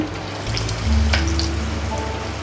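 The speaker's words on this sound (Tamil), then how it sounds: "அந்த மாதிரி ஒவ்வொரு போண்டாவாக நம்ம போடலாம். எண்ணெயும் காஞ்சிருச்சு." Maida onion bondas are dropped one by one into hot oil, raising a steady close-up sizzle and bubbling hiss with no talk, while a low hum runs underneath.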